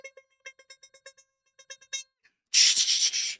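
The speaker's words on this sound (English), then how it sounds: "That is the Morse code message of the night." Morse code message tapped out as a run of short and long beeping tones with uneven gaps, clear and close, followed by a loud burst of broadband noise at the end.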